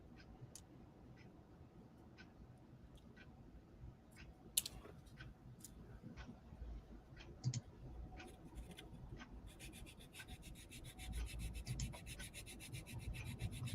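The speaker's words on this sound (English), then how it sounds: "the sound of filing wood and the smell" Wood is filed by hand during a shed build, soft rasping strokes and scattered clicks close by, growing into steadier, louder scraping toward the end.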